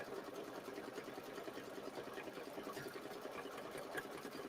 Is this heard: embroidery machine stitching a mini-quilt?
yes